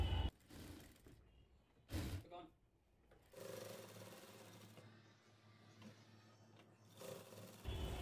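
A domestic sewing machine hums steadily in a long run while stitching a cushion cover, bracketed by brief handling knocks at the start and end.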